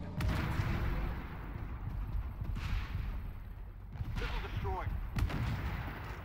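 A missile fired at a Bradley armored vehicle in a military video game, heard as a run of deep booming blasts and gunfire-like bursts, some loud and close, with quieter rumbling between.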